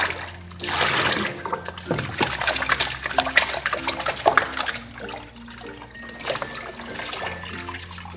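Water sloshes and trickles in a bin as clarifying shampoo is rinsed out of hair extensions, with uneven splashing and dribbling bursts close to the microphone.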